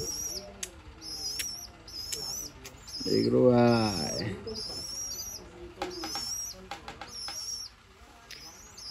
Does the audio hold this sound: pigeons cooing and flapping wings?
yes